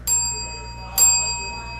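Two bright rings of a small desk bell, about one second apart, each with a sustained metallic ring that slowly fades, close and clear at a basketball card case break.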